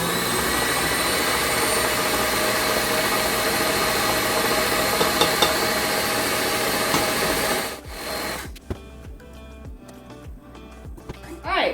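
An electric mixer blends cheesecake batter for a spring berry cheesecake with a steady, loud whirring hum that runs continuously for most of the stretch, then cuts off abruptly, leaving quieter scattered clatter near the end.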